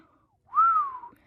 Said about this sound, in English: She whistled.